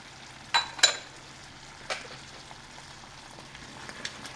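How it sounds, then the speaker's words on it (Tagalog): Beans and fried potatoes drop into a pot of chicken pochero, giving a few soft splashes and thuds and then a low steady simmer and sizzle, with no talking. "Ihulog na natin yung ating beans. At itong pritong patatas."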